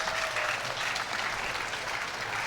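A home crowd at a canoe sprint World Cup regatta in Duisburg applauds a German victory, dense sustained clapping and cheering at even strength throughout, without speech.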